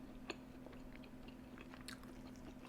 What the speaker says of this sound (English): That broccoli still has that crunch to it.